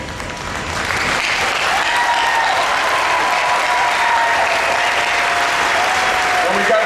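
A large crowd at the commissioning ceremony of the USS Zumwalt (DDG 1000) applauds the ship's crew with steady, dense clapping that swells in after a second and holds loud and even, with a voice heard faintly underneath.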